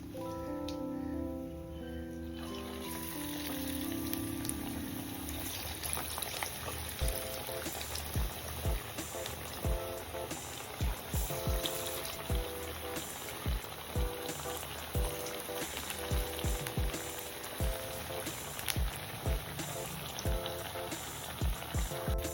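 Cowpea and amaranth vadas fry in hot oil, a steady bubbling sizzle dotted with sharp crackles and pops throughout, close and even, with no voices over it.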